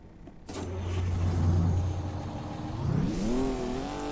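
Detroit 6-71 diesel engine in a SCOT A2HD truck from American Truck Simulator cranks and fires, settles into a loud steady idle, then revs up with rising tones, close and with no talking over it.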